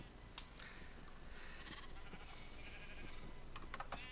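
Faint, intermittent sheep bleats in a pen in Minecraft over a steady background hum, with a few soft clicking sounds scattered throughout.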